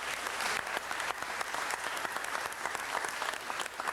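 Sustained applause from an audience at a city council meeting, a steady dense patter of many clapping hands at a moderate, even level for the whole stretch.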